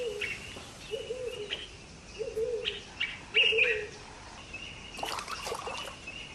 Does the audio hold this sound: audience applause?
no